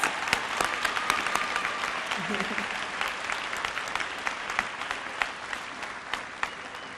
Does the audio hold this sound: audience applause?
yes